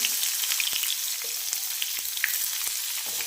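Onion and chili sizzle steadily in hot oil in a pan for dal palak, a dense continuous frying hiss with occasional small pops and a few faint clinks, no voices.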